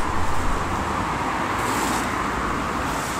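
Road traffic passes along National Route 15 in Japan, a steady wash of car and motor noise heard from the roadside at moderate distance, with no talk.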